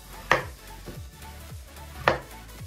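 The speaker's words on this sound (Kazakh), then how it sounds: "Енді картопымызды тураймыз." A knife chops potatoes on a board, with two sharp, distinct cuts spaced well apart and quieter kitchen noise in between.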